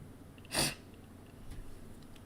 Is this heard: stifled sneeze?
yes